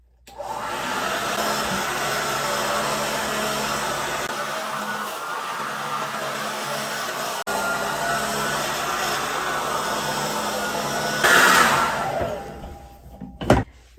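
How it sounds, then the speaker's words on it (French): A hair dryer blowing steadily on freshly washed hair at home, a loud continuous whooshing drone that runs for most of the time before cutting off, followed by a few small knocks. "là je fais un sèche-cheveux pour le sécher."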